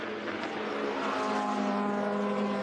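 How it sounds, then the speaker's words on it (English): A loud, steady Audi race car engine drone at Le Mans with a low idling hum and a constant rumble throughout, no voices present. "Sounds like the engine is running on idle."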